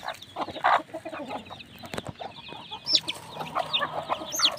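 Chicks cluck and peep in bursts, scattered close and busy, while being given feed inside their pen, with occasional louder calls over a steady background of chatter.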